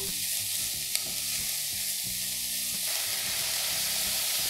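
Onion, celery and other vegetables fry in a pan for vegan cornbread stuffing, a steady close sizzle and hiss with a low rumbling undertone, continuous throughout with no talk.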